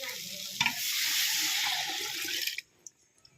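Water is poured into a pan of rice frying for a Makar Sankranti dish, giving a loud sustained hiss and sizzle that cuts off abruptly, followed by a few faint clinks.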